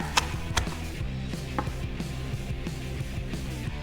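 Kale being chopped with a knife on a cutting board in a home kitchen, a few sharp knife strikes standing out over steady background music.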